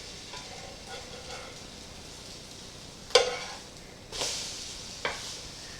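French toast frying in a pan, a quiet steady sizzle interrupted by a sharp clack and a few louder scraping bursts as slices are flipped, close up with no speech.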